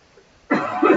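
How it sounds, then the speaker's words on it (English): A single short, harsh cough up close, bursting out after a near-silent moment and trailing off within half a second, heard alone without talk. "I coughed for 2 seconds?"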